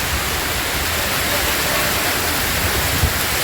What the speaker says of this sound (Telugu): అడవి మధ్యలో వాటర్ ఫాల్స్ ఉంటుంది అనమాట